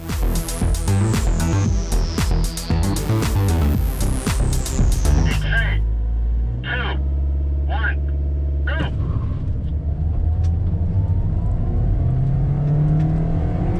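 A Perodua Myvi and Proton Iriz rev and accelerate hard in a drag race, pitch climbing, then a rumbling engine continues steadily, with people talking over it.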